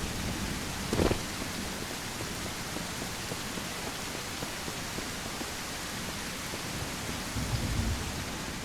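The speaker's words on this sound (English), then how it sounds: "There's a lot of rain coming down recently." Heavy rain pours steadily in the survival video game Mist Survival, a dense, even hiss broken by two low rumbles of thunder, one near the start and one near the end.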